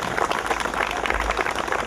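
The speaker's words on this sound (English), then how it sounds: "Can I hear a round of applause that they're really going to appreciate? Come on, give it up for them." Wedding guests applaud together at a celebration, with dense, steady clapping filling the whole stretch at an even loudness and no clear speech over it.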